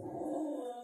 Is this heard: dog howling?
yes